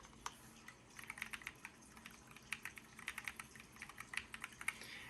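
Close, quiet typing on a custom Glorious GMMK 2 mechanical keyboard with unlubed Panda switches, a steady run of sharp clacky keystrokes in an otherwise silent room.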